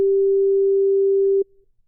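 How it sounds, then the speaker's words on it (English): A digitally generated pure sine tone holds one steady pitch for about 1.4 seconds and then stops abruptly, leaving a brief faint tail. It is loud and clean, with no voice or other sound. "here's the sine wave"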